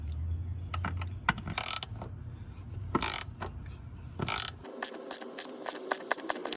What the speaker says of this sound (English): you're gonna need a 10mm socket to remove the bracket of the fuel filter